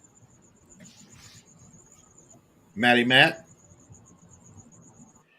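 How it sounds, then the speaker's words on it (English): Cicadas outside give a thin, steady high buzz that runs almost the whole time. It stays faint and constant under a brief spoken call. "The cicadas out there are going Yeah, no, crazy."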